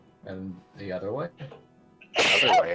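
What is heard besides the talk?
sneeze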